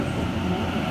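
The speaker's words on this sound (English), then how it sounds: "we have a City Circle service arriving onto platform number 2" Low rumbling roar of a Sydney Trains City Circle service pulling into a platform at Campbelltown station, a steady, dense mechanical drone that stays loud throughout with no clear talking.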